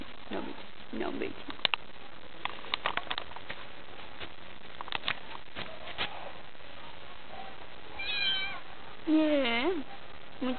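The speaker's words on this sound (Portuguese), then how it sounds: "Por que você tá miando?" A pet cat named Harry meows at the end, a couple of rising, drawn-out calls close by, after a stretch of quiet room sound with a person's voice speaking softly.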